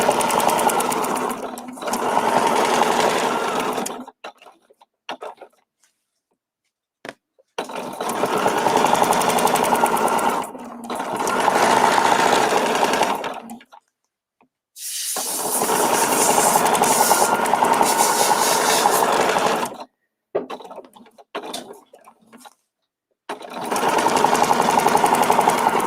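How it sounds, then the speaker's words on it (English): A sewing machine stitching a quilting line along a template, running in several bursts of a few seconds each, its steady close whir broken by silent pauses between runs. "I just need to stitch up one more line beyond the purple."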